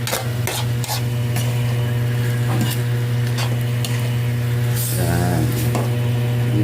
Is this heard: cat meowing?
no